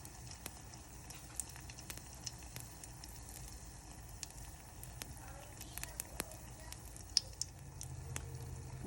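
Steady crackling and sizzling of egg rolls deep frying in hot oil, with scattered sharp pops over a constant hiss.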